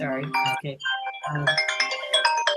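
A phone's ringtone sounds during a Dhamma discussion as a run of bright, steady melodic tones. It gets busier toward the end, and a voice speaks briefly over it.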